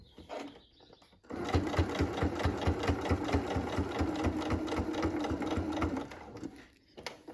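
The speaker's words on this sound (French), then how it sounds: "on va piquer tout le long, bien au bord" Sewing machine stitching along the edge of fabric, a steady fast rhythmic chatter of needle strokes running for about five seconds after a quiet start, then stopping abruptly.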